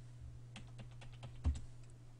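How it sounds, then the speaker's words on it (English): Quiet clicks of a computer keyboard being typed on, a short burst of about a dozen quick keystrokes with one firmer tap near the end, over a low steady electrical hum. "we're going to type unhide with the password"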